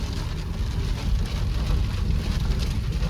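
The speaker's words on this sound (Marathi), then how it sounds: "बघा पाऊस किती वाढलाय" Heavy rain pours down while a vehicle drives through Kasara ghat, a dense, steady hiss of rain drumming on the surface with a low road rumble beneath, continuous and fairly close.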